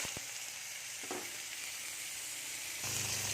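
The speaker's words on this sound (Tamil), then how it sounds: "கடுகு பொரிஞ்சிச்சு" Hot oil sizzles steadily up close, with mustard seeds crackling and popping, plus a brief clatter of stirring near the end.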